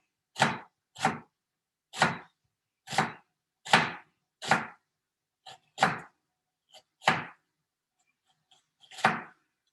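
Kitchen knife slicing through an onion on a cutting board, about a dozen sharp, separate chops at an uneven pace, close and crisp with silence between strokes.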